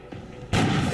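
A single sniper rifle shot in the XCOM strategy game: a quiet rumble, then one loud, heavy blast that rings on as a sustained boom.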